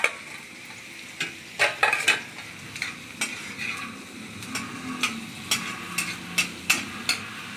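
Garlic with black cumin fries and gets stirred in a pan, a soft steady sizzle broken by regular sharp scrapes and clinks of a utensil against the metal, close and alone without talk.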